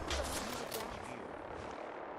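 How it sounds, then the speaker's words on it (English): Weather-clearing fireworks go off in the video game Fallout 4, a dense, continuous crackling and rumbling barrage that fills the whole short stretch at moderate loudness, with no talking. "I used my clear the weather fireworks over there"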